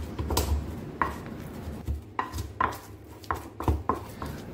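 Spice paste with ginger and salt being ground in a stone mortar and pestle, heard as rhythmic, close pounding and grinding strikes roughly every half second, steady and without speech.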